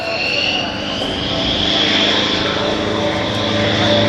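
An aerobatic helicopter performs a tail slide at an outdoor military airshow, giving a loud, continuous engine and rotor roar with a steady droning tone, sustained throughout at close-to-mid distance.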